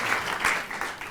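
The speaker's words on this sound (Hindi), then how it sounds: "तो तालियां बजा दीजिए थोड़ी सी" A short burst of audience clapping at a Hindi poetry recital, dense and fairly loud, lasting about a second.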